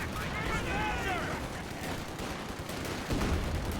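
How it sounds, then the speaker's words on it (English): A bundle grenade attack and gunfire in a video game battle sound as dense, continuous rattling shots and muffled blasts, with a voice talking over the din. "that was a juicy little bundle nade attempt"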